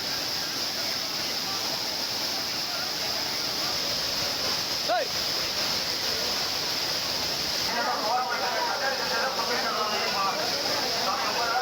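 The main waterfall at Courtallam roars in a steady, dense wash of falling water as Ayyappa devotees bathe beneath it, with a voice speaking over the constant rush.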